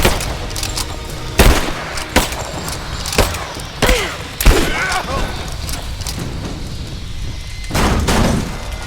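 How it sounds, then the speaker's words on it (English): Suppressing fire in the action game Rise of the Tomb Raider comes as loud, irregular bursts of gunshots and booms, separated by short lulls, with brief voices heard between them. "Give me suppressing fire now!"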